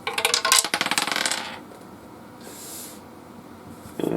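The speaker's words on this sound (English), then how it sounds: "So I'm going to try a 10-sided die." A 10-sided die clatters down through a Dungeons & Dragons dice tower, a rapid rattling burst of plastic clicks lasting about a second and a half, followed by quiet, then a brief soft rustle and a final click.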